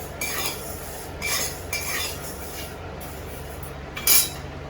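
Broken wheat (dalia) being dry-roasted in a pan, with several sharp scraping stirs of a spatula against the metal at irregular intervals over a low steady background hum.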